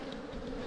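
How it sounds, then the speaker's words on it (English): A soft, continuous buzzing hum of many honey bees on a hive frame from a small nucleus colony, close by and steady, with no voices. "shake most of the bees off it"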